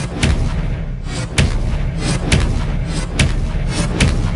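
Casting Expelliarmus in Hogwarts Legacy on PS5 produces a series of loud, punchy magical thuds and booms, repeating roughly every second over a rumbling game soundscape.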